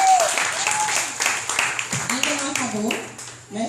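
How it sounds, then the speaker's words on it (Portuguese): A church congregation breaks into a round of applause during a service, dense clapping from many hands close by with raised voices and cheers mixed in, fading slightly toward the end. "Dê uma salva de palmas ao Senhor"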